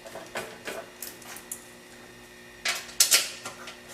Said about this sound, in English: I put on the top 2 screws first.